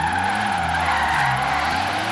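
Mazda Miata cars tandem drifting in a racing video game, tires screeching in a continuous loud skid over droning engines whose pitch wavers as they slide.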